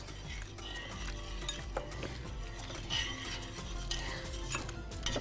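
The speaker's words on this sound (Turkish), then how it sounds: "Tereyağı güzelce efendim eziyoruz." Butter is mashed in a pan for a syrup-soaked oyster dessert with a utensil scraping and pressing against the metal. Repeated soft clinks and rubbing strokes sound close and quiet, with no one talking.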